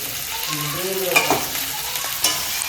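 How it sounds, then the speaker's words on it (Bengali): Boiled potatoes sauté in a pan, a continuous sizzle with a couple of sharper scraping clinks from a spatula, while a faint voice is heard briefly beneath. "সুন্দর করে কষাইছি দেখো আলু সিদ্ধ হয়ে গেছে"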